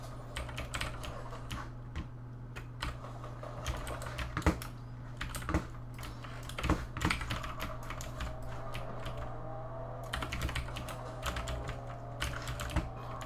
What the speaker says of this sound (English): Damn, I'm so sorry for how loud this keyboard is.